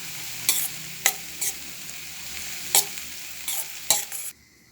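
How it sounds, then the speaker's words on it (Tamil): Minced meat and noodles are stirred in a hot pan. Several sharp scraping strokes of the utensil come over a soft, steady sizzle, close up with no voice. "நல்லா கலந்து விட்டுக்கோங்க."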